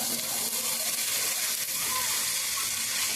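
Egg rice with salt is stirred in a hot pan, a constant close sizzle and hiss with faint scraping of the spoon through the rice.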